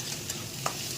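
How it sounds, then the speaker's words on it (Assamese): Chopped tomatoes fry in a pan over medium flame for a sour Assamese fish curry, giving a low steady sizzle as a spatula stirs with a couple of light scrapes and one clink. "এতিয়া গোটেইখিনি ভালদৰে লৰাই দিম।"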